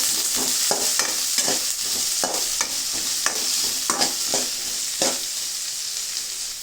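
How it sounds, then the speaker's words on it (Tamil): Onions and cumin sizzle and fry steadily in a pan while a spoon scrapes and stirs in a regular rhythm of close, distinct strokes, with no talking over the hiss. "சீரகத்தை போட்டது, வெங்காயத்தை போட்டேன். வெங்காயத்தை போட்டு ஒரு கிளறி"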